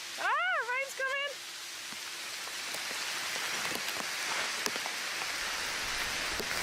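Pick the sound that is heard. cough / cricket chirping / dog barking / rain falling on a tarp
rain falling on a tarp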